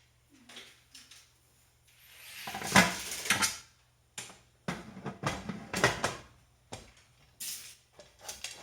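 A metal lid is set onto a pint canning jar of home-grown collard greens, with a few scattered clinks and scrapes of metal on glass, fairly quiet, separated by short pauses.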